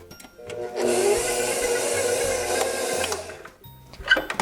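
A stand mixer's motor whirs steadily as its dough hook kneads sweet roll dough for raspberry sweet rolls, starting up after a brief pause, running for a few seconds and then winding down.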